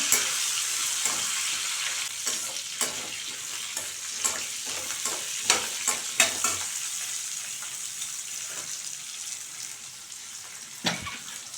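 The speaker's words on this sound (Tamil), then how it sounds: "கொஞ்சமாக கொத்தமல்லி கருவேப்பில இதெல்லாம் கலந்து நல்லா வதக்கிடுங்க" Coriander and curry leaves are sautéed with tamarind in a pan for a piranda chutney, making a constant bright sizzle broken by scraping stir strokes that cluster in the middle and then thin out, close and without speech.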